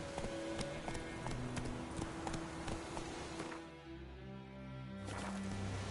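Roach, the horse in the video game The Witcher 3, gallops with a rapid, rhythmic clip-clop of hooves under a dense bed of game ambience, steady and close throughout.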